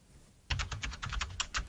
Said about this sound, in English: So we've got typing.